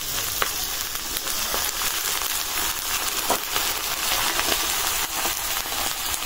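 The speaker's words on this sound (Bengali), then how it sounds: "এখন দিয়ে দেবো ওই যে পেঁয়াজ কলি" Onion stalks fry in hot oil in a village kitchen pan, giving a continuous loud sizzle with occasional soft clicks and stirring sounds and no talking.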